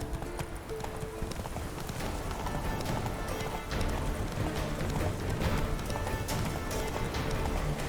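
Roach, the horse in The Witcher 3, gallops hard in a fast, dense beat of hoofbeats that stays loud and close throughout, with a whinny mixed in and brief game dialogue beneath.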